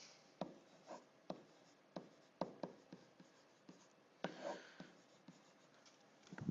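A pen or marker scratches out the quadratic formula in quick, irregular strokes and taps, close and fairly quiet, with no talking over it.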